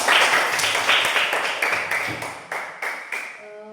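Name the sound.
schoolchildren clapping hands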